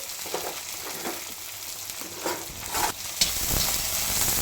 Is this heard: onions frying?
yes